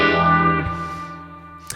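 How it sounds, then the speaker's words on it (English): Psychedelic electric guitar riff played through a phaser, analog delay and spring reverb, sustained notes swirling and trailing off into echo, with a brief pick attack near the end. "I put on the phaser now. Again, we have the analog delay,"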